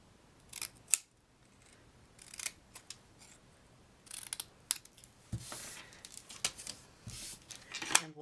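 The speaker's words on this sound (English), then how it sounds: "So I'm going to cut a banner on the end." Scissors cut a paper banner for a handmade card, with a close series of crisp snips and paper rustles coming in irregular bursts, some louder cuts near the end, and no talking.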